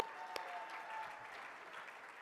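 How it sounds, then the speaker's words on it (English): Applause from a crowd at a CRA board meeting fills the space steadily, a dense patter of many hands clapping at moderate distance. "Give me a round of applause."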